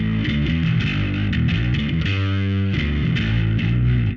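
Electric bass played through a Zoar distortion pedal set for a dry, gritty tone with the weight knob turned fully down, a loud sustained riff with steady low notes and a held passage midway.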